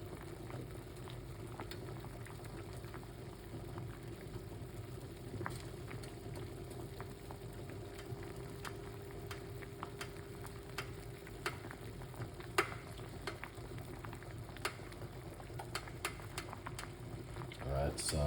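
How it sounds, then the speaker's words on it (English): A pot of lemon, green tea and ginger bubbles at a steady low boil, a continuous watery simmer with faint clinks and small pops throughout. "lemon and green tea bag with some ginger, boiling very perfectly."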